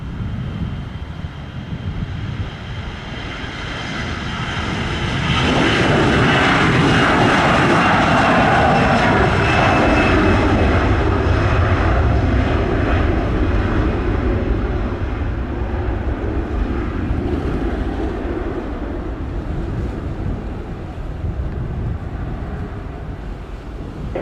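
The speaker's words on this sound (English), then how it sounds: "You saw the big airplanes landing. Here's how they left Jamaica." Large airliner taking off from runway 07 at Montego Bay airport, Jamaica: jet engine roar builds from a distant rumble to a loud, sustained thunder, then slowly fades, with wind buffeting the microphone.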